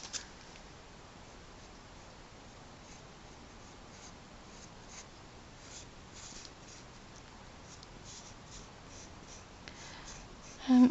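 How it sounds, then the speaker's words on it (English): A pencil sketches and shades on paper with soft, continuous scratching and rubbing strokes, close and quiet, ending with a short louder knock. "Get a darker pencil and draw in shadows."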